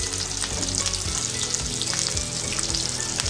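Pav bhaji masala cooking in a pan over a slow flame while it is stirred, a steady close sizzle with scraping spoon strokes throughout.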